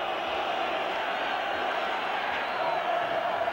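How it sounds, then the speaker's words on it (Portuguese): A Corinthians crowd in a packed stadium during the 1999 Brazilian championship match against Palmeiras roars and chants in a dense, continuous wash of distant voices with no breaks. "a torcida do Corinthians dá uma demonstração de confiança, gritando Corinthians, Corinthians"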